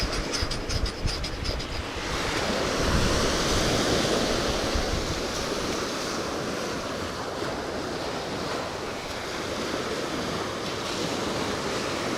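Gulf Coast surf in Florida breaking and rushing ashore, a loud continuous wash that swells after a brief gusty opening and then rolls on steadily, with wind noise on the microphone.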